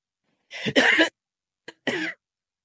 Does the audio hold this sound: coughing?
yes